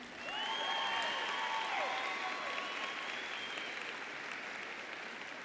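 A graduating audience at a spring university commencement claps steadily for several seconds, broad and continuous with faint cheering tones riding on top, slowly easing off toward the end.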